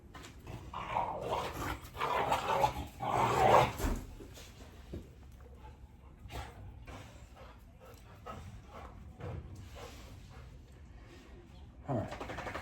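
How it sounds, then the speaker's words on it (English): Several pet dogs, cooped up indoors all day, bark excitedly in a burst over the first few seconds, then quieter yelps and thumps follow with a short loud bark near the end. "Dog's been cooped up inside all day, so they're going absolutely nuts."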